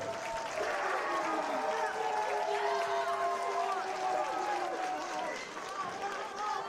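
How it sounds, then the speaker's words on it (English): Wrestling crowd at a Wrestling Revolver show chanting in a sustained, rhythmic roar that fills the arena steadily, with commentators talking over it. "You hear the crowd chanting all night long."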